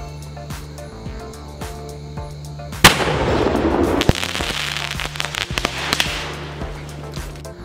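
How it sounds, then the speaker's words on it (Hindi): Sony Vinayaga Gem Park Diwali sky shot firing, its shell bursting low: a sudden loud blast followed by several seconds of crackling pops and sharp reports against an outdoor background with scattered bangs. "हमारा पहला स्काई शॉट पूरी तरह से ऊपर नहीं जा सका और नीचे ही फट गया"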